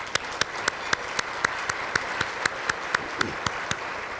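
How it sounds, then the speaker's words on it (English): Audience at an economic forecast breakfast forum claps in a round of applause, dense steady clapping with a few louder individual claps, continuous and fairly close throughout. "so please, thank you, and a round of applause"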